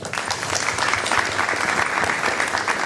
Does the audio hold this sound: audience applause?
yes